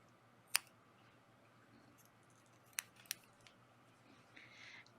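Scissors trimming leftover yarn tails off a crochet blanket: three sharp, quiet snips spaced apart in a hushed room, followed by a faint soft rustle.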